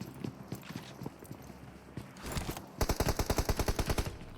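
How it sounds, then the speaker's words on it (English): Gunfire in a PUBG Mobile esports match, scattered shots early on and then a rapid, evenly spaced automatic burst of loud cracks near the end, with no voices. "Shots are coming through."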